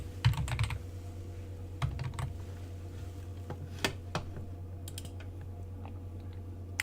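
Keystrokes on a computer keyboard come in short irregular bursts of clicks with pauses between them, close and moderately loud over a steady low hum.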